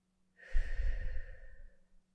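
A single slow exhale through the mouth, close and soft, lasting about a second and a half during a medical-style check.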